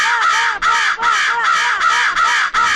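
A crow caws loudly and close by in a steady run of four or five harsh, evenly spaced calls, with no talking over them.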